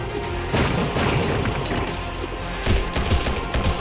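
Dense, rapid gunfire bursts in the mobile action RPG Cyber War: Cyberpunk Reborn, loud and continuous with impacts and booms layered through the fight.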